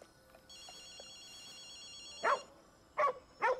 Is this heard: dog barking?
yes